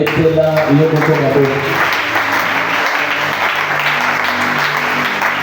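A church congregation claps and cheers in a broad, continuous wash of applause, with voices shouting over it during a sermon on the pre-incarnate Christ.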